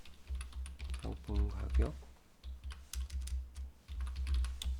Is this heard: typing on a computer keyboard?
yes